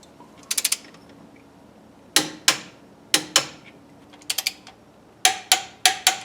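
Ratchet tightening bolts on a vintage air accessory bracket during a serpentine belt conversion: short bursts of rapid clicking, three or four clicks at a time, separated by pauses, close and crisp in a quiet space.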